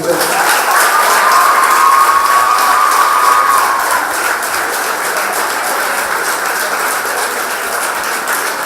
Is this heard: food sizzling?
no